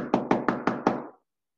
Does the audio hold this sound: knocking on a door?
yes